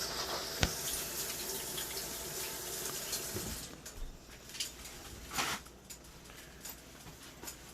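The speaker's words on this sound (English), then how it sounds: "So let's wash our hands before we touch the meat" Running water from a kitchen tap splashes steadily as hands are washed beneath it, with a continuous close hiss and a few brief splashy surges, no talking.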